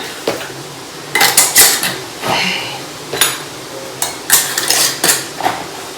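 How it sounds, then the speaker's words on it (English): Glass canning jars fitted with metal lids and rings are handled for peach preserves, giving a series of close, sharp clinks and knocks in irregular clusters against a quiet background. "My jars have got the lids and the rings on and they're ready to go in the canner."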